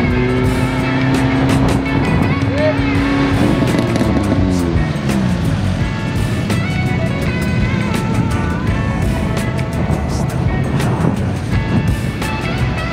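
A race car engine revs at sprint-event scrutineering at Sandown, rising in pitch, holding, then dropping back, with a loud, continuous mechanical roar throughout.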